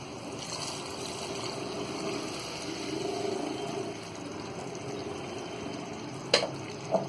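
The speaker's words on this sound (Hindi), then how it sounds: "ये जो गुड़ और पानी है, अब इसमें हम डाल देंगे।" Jaggery water trickles and pours steadily into a pot of cooking rice, a soft continuous watery wash, with a couple of sharp clinks near the end.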